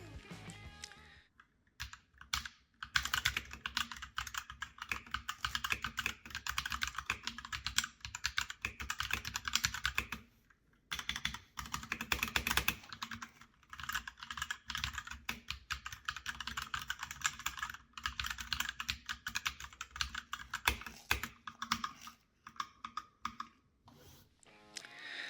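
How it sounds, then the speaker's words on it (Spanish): Typing on an ASUS ROG Falchion Ace compact premium keyboard: quick, soft, muted keystrokes in dense bursts with brief pauses, close and fairly quiet, with no voices. "ofreciendo una experiencia de tecleo o de pulsación simplemente brutal y con una acústica muy comedida y muy premium"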